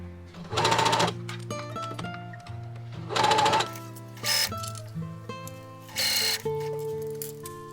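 A sewing machine bastes a seam on a dress, 7mm from the edge, in several short whirring runs separated by pauses and soft handling noises, close and clear with no talk.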